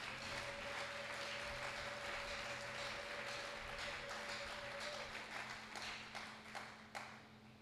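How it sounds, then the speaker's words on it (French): Applause from a church congregation during a deliverance gathering in DR Congo, dense steady clapping that lasts the whole moment then thins out, fairly faint and distant. "Acclamons très fort pour la parole de Dieu."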